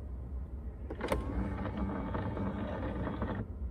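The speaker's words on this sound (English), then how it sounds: "The transmission lever goes all the way into a recessed part of the center console." A small electric motor retracting the gear shift lever of a 2021 Ford F-150 into the center console whirs steadily for a few seconds with a faint whine, starting after a soft click and then stopping, close by in a quiet cabin.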